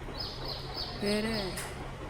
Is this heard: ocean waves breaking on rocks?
no